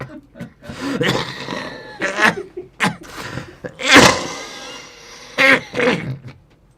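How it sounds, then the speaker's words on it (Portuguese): Several bursts of coughing and sputtering, close and fairly loud, spaced unevenly with short pauses between fits, some sounding strained like choking. "estou-me a engasgar"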